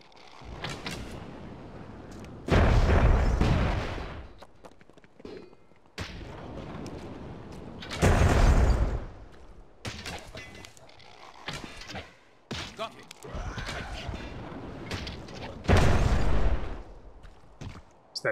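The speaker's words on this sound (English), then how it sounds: "That cannon blew up in midair." Cannon blasts in Myth II: Soulblighter, several heavy booming bursts spaced a few seconds apart, one exploding in midair, loud and separate from one another against quieter battle noise.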